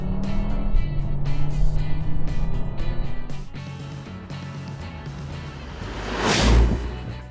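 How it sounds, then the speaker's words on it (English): A 2014 VW Beetle GSR with a DSG gearbox plays a synthesized boxer-engine sound through its sound generator. The engine note holds steady, then dips and swells into a loud rev burst near the end, with no talking. "they've added a sound generator to this car that produces the sound of a boxer engine"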